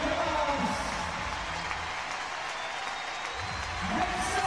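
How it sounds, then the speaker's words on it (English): Large stadium crowd at the StubHub Center rising and cheering for a CrossFit Games athlete emerging from the tunnel before the Murph event, a steady distant roar of voices and applause throughout. "Björgvin Gudmundsson, hearing it from the crowd as they anticipate his emergence from the tunnel at the StubHub Center rising to their feet"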